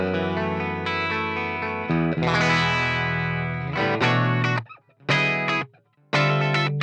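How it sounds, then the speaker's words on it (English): Electric guitar played through a Little Champion amp capture in ToneX with an overly compressed clean tone, sustained chords ringing with chorus-like shimmer, briefly choked off twice near the end, no voices. "Little Champion. Again, a very sort of overly compressed clean sound."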